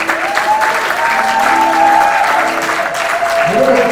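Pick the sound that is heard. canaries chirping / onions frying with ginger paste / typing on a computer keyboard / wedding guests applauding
wedding guests applauding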